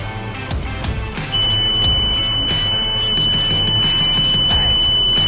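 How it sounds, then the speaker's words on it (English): A bin-up warning buzzer on a Bell truck chassis sounds a loud, continuous high-pitched tone that starts a second in and holds steady over the low rumble of the running engine. "there's going to be an extremely irritating buzzer going"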